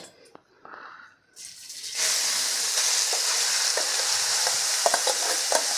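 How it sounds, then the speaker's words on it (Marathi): Grated carrots hit melted ghee in a pan and then sauté with a loud, steady sizzle and occasional stirring scrapes, after a brief quiet start with a few light clinks. "हे गाजर आपल्याला दोन ते तीन मिनटे छान असं रंग बदलेपर्यंत परतून घ्यायचं आहे"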